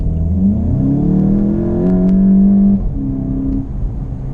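A Volkswagen Golf with an automatic DSG gearbox accelerates hard, its engine note rising in smooth sweeps with quick shift breaks between gears, heard from inside the car and loud throughout.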